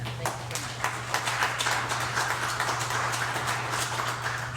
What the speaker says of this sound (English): well, a round of applause for him